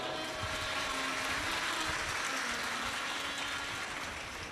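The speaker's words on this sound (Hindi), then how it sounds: "एक बार जोरदार ताली बजाओ।" A large audience at a live Shiv Mahapuran katha by Pradeep Mishra claps loudly together, forming a dense, continuous roar of applause that stays steady and full for several seconds with no clear speech on top.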